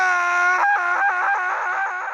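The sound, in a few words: man screaming in horror story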